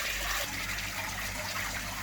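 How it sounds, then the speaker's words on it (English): A small waterfall in a paludarium runs in a steady, close splashing gush of water, constant and unbroken, with no voices. "Turned up the waterfall a little bit more now."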